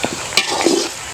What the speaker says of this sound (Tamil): இஞ்சி பூண்டு விழுது போட போகிறோம்.